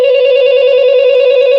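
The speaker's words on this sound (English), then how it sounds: "And I've also got this Scream 4 phone." A Scream 4 novelty telephone rings with a steady, loud electronic tone that runs continuously for the whole moment, with no talk over it.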